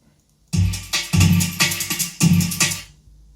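A jungle breakbeat sample played at 150 BPM, with punchy kicks and crisp snare hits in a quick, syncopated pattern for about two and a half seconds after a brief silence, then stopping.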